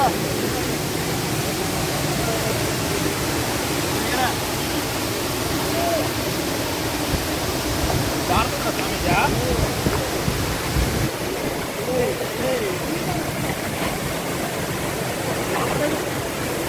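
Sivakona waterfall near Rapur pours water in a loud, steady rush that fills the whole stretch without a break.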